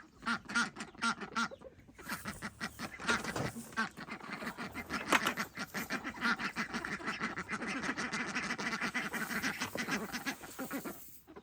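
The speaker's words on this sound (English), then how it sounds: "Look at our ducks. Aren't they cute?" A flock of ducks quacks busily and continuously close by, overlapping calls forming a noisy chorus with no talking.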